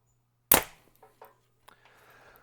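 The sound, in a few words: PSE Mach 34 compound bow being shot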